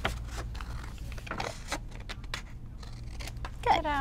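Scissors snip off the bottom strip of a paper square during a pinwheel craft, several short close cuts and rustles at a steady pace, with a sharper snip near the end.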